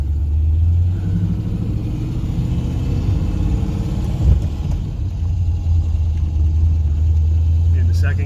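BMW E38 sedan driving with a steady low engine rumble, a brief dip near the middle as it shifts into second gear, then the drone continuing close and loud.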